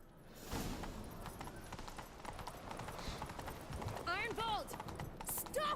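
Galloping horse hooves from The Witcher 3 pound in a fast, continuous rhythm throughout, joined midway by a brief rising whinny, with game background sound underneath.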